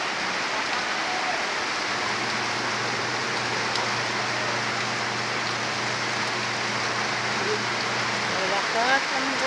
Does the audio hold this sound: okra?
no